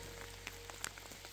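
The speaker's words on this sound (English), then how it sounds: "The rain is really picking up." Rain falling on Brommö Island, Sweden, as a soft, continuous patter with scattered distinct drops hitting a surface nearby, fairly quiet overall.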